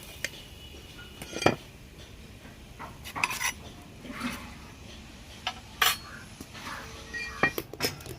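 A metal spatula scrapes and lifts a quick homemade tiffin snack from a pan, producing sharp scattered clinks and scrapes of metal on metal over a quiet background.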